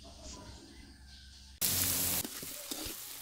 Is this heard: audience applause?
no